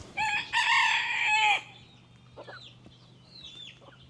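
Bantam chickens in a farmyard: a loud rooster-like crow fills the first second and a half, then soft scattered clucks and chirps follow from small birds nearby.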